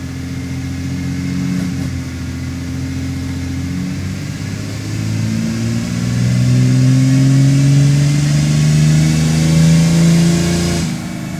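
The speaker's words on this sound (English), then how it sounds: "we're going to start rolling now and dyno test the tune with the timing bump and the torque bump" A diesel vehicle on a dyno runs under load, its engine droning loud and steady. Pitch falls once, then rises smoothly as revs climb, before cutting off at the end.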